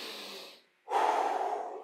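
Breathing during an arm workout with light dumbbells: one loud exhale, then a brief pause and a sharp inhale, close to the mic with no talk.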